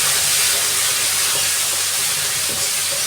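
Mutton spice paste sizzles after a little water goes into the hot pan, a loud continuous steamy hiss that fills the whole stretch without talking.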